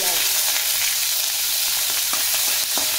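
Loud, continuous sizzling of Manipuri onion and a bay leaf frying in hot oil, dense crackle close up with occasional sharper pops and a faint stir.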